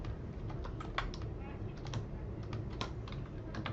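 SPSS syntax being typed on a computer keyboard, heard as a close, fairly quick run of light, uneven key clicks with short pauses between them.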